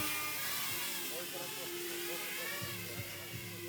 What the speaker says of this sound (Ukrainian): У небі над Ужгородом шугають у повітрі безпілотники